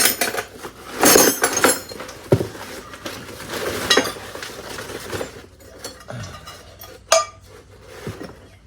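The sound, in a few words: metal sockets and wrenches clinking as they are handled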